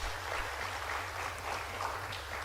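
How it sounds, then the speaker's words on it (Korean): A church congregation gives applause, a soft, fairly distant, even patter of clapping across the whole stretch over a low room hum. "하나님께 또 한번 영광의 박수를 드리도록 하겠습니다."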